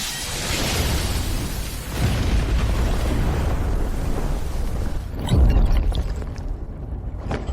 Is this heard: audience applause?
no